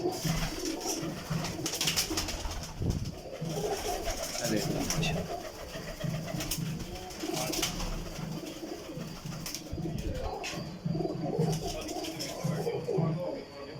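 Pigeons in a loft, a valuable flock of around 53 birds, cooing steadily and fluttering at close range, with someone talking over the birds throughout.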